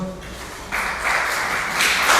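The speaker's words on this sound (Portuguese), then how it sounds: "aplauda ao Senhor" Applause from a crowd swells in, clapping building louder and denser over a couple of seconds in a reverberant hall.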